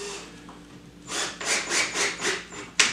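A screw is driven into the corner of a wooden theater flat frame, giving about five close, rhythmic grinding bursts with a sharp click at the end.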